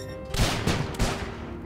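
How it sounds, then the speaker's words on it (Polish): A loud burst of explosive blasts in the video game Starbound, several sharp booms in quick succession over a rumbling roar, with no voices. "Nie wiem, czemu to wybuchło"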